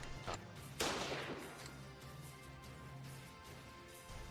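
A 12-shot bolt-action rifle firing in a video game, heard as a single sharp report with a short fading tail, preceded by a small click and followed by quieter mechanical shuffling, alone.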